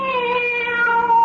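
A cat meows loudly and close by, a single sustained, slightly falling meow from outside a house, heard alone without talk.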